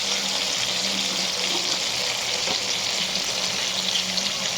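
Spice paste of ginger, chilli paste, coriander and ground spices sizzles steadily in a pan with a little water added, a continuous close hiss with faint stirring and no speech.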